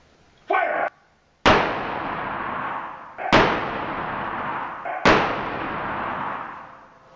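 Test shots are fired at a transparent DSLX hybrid polymer armor panel outdoors: after a brief short burst, three loud, sharp bangs follow at roughly even intervals, each trailing a long, echoing decay.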